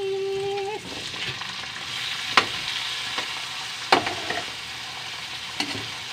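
Tomatoes drop into a hot frying pan used for frying tilapia, hissing in a steady sizzle while a utensil scrapes and clacks against the pan in a few sharp strikes.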